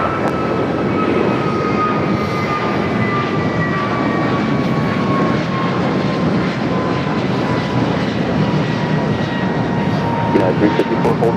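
A jet airliner takes off from runway 25 right at LAX, its engines roaring loud and steady with a whining tone that slowly falls in pitch as it accelerates, while voices talk underneath.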